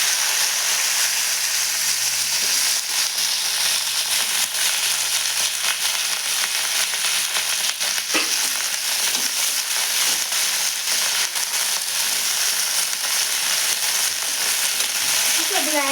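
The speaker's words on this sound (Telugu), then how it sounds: "పచ్చిమిర్చి వేస్తున్నానండి పచ్చిమిర్చి వేస్తున్నాను" Green chillies frying in hot oil, a steady loud crackling sizzle that runs throughout without a break.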